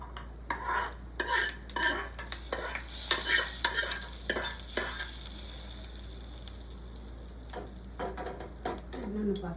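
Hot tempering of chillies and onion in oil is poured into a chutney, giving a sizzle with repeated clinks and scrapes of a spoon stirring against the pan and dish, moderately quiet and close.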